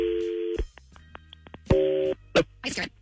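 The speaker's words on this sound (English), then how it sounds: "So we're going to make the phone call" Telephone call tones while a phone call is being placed: a steady dial tone, a run of short keypad dialing beeps, then another sustained tone, with brief noisy bursts near the end.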